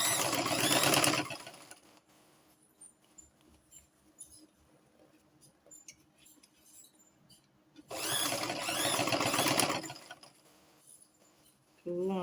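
A sewing machine stitches fabric for an off-shoulder corset in two loud, sustained runs, one at the start and a longer one near the end, with quieter handling noise between them.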